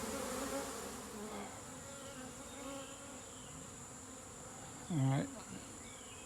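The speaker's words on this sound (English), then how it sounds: "I can hear bees up here." Honey bees buzz steadily from an elevated hive during a removal job, a continuous faint drone running through the whole stretch with a brief louder pass near the end and a few spoken words over it.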